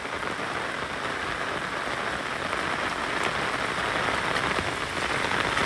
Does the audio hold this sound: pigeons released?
no